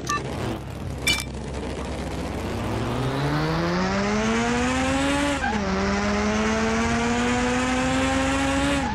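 A car in Car Mechanic Simulator 2021 drives and rolls over. The engine note climbs steadily and dips briefly as the car tumbles, then climbs again with tire squeal. The sound is loud, close and continuous, with no talk over it.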